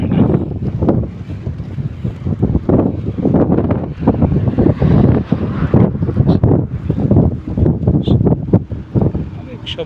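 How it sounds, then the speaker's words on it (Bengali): Strong hot wind buffets the microphone in gusty, rumbling bursts, loud and close, with a faint voice at times under the roar. "অবশ্য বাতাস আছে"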